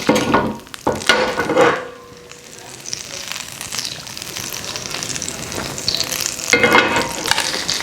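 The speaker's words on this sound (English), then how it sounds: "Just get us a little butter. Melt it in the pan" Butter melting in a hot pan before breaded chicken goes in, a steady close sizzle and crackle with a few louder bursts of stirring or movement at the start and end.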